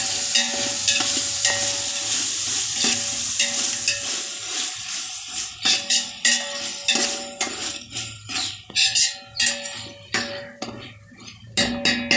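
Tomatoes soften and fry in a pan for chicken dum biryani with a steady hiss while repeated stirring scrapes and clinks come through in bursts; no voices.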